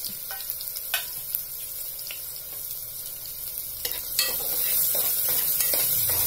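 Onion and ground masala paste frying in hot oil for a village-style chicken curry, giving a steady close sizzle with scattered stirring scrapes and clinks that grow slightly louder toward the end.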